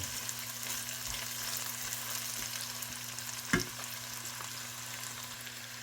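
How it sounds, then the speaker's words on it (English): About four tablespoons of butter melt in a pan, giving a steady close sizzle and crackle with one sharp clink partway through and a low hum underneath. "we got about 4 tablespoons of butter. We're gonna go ahead and put that in now. Let that melt"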